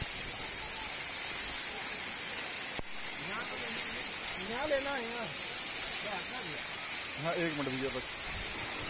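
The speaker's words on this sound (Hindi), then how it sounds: "ये शॉट्स हमने झरने के ठीक नीचे खड़े होकर लिए हैं। कैमरे में भी पानी आ रहा है इस शॉट्स में" Bee Fall waterfall at Pachmarhi, recorded from directly beneath the falling water, a steady dense roar and hiss that stays constant throughout, with people talking over it.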